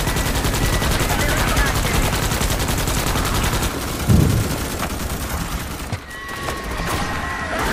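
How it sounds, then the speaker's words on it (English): Rapid, sustained automatic gunfire in Starship Troopers: Extermination multiplayer rattles loud and dense for several seconds, with a heavy thump partway through before the firing thins and tails off near the end. "Quit shooting!"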